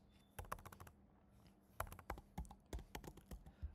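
Keys clatter on a computer keyboard as someone types a short phrase in quick bursts of clicks, with a brief pause partway through; the tapping is close but soft.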